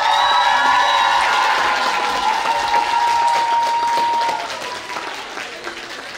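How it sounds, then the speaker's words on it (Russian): Loud applause and cheering from a crowd at the Yokai 2021 awards ceremony as the jury comes on stage, with whoops and a high shout over dense clapping that eases slightly toward the end. "Жюри на сцену, бурные аплодисменты!"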